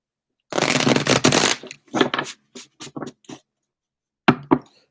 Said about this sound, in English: I'm going to shuffle these real quick before I put them back.